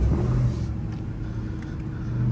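A Ram TRX Hellcat pickup truck cruising on the road, its engine a steady, loud low rumble from inside the cab with no speech.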